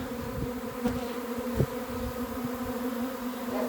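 A honeybee swarm buzzing close by, a dense steady hum with individual bees zipping past the microphone, no voices.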